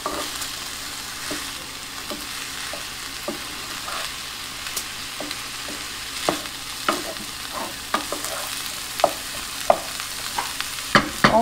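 Sticky rice filling for steamed joong, dressed with about a teaspoon of sesame oil, is mixed by hand in a bowl. It makes soft, continuous stirring and squishing with scattered sharper clicks that grow busier toward the end, and no one talks.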